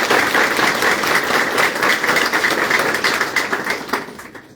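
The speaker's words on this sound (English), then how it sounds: "Give yourselves a big hand of applause." High school students at a technical school clap loudly for themselves, a close, dense burst of applause that holds steady and then tapers off near the end.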